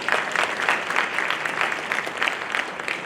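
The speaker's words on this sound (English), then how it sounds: "Can we give her a round of applause?" A school parent-night audience claps for a speaker, a steady wash of applause from a full room lasting the whole stretch, moderately loud with no talk over it.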